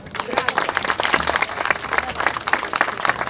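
Audience applause at the inauguration of a footbridge over the Malone torrent, dense continuous clapping from a crowd with a few voices mixed in.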